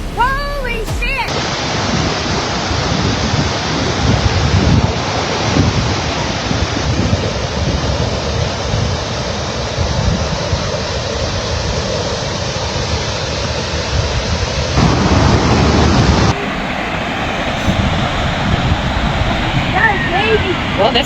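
Flash flood water rushing over a road in Ruidoso, New Mexico, a loud, steady broadband roar like a torrent, close and continuous, with a brief surge in intensity near the end and occasional voices beneath the din.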